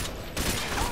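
Continuous suppressing gunfire in Modern Warfare 2, a steady loud wash of shots filling the moment with no break.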